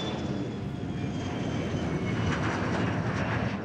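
A charter airplane near an industrial center flies overhead with a loud, steady broadband engine roar that fills the whole stretch, close and continuous with no talk.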